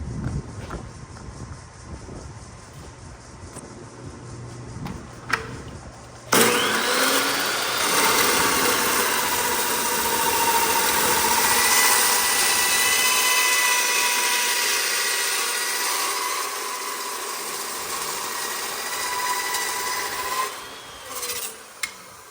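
A power tool bites into metal stock for a headache rack, starting abruptly after a few quiet knocks and then grinding loud and steady for about fourteen seconds with a harsh rasping tone before it cuts off.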